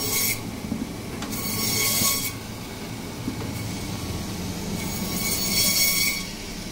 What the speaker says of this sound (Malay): Aktiviti memotong tulang.